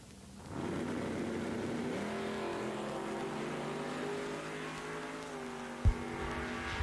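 Drag race at Eddyville Raceway Park with a Nova and a Mustang, engines roaring steadily from the launch, one rising harmonic drone holding loud and close with no talk over it.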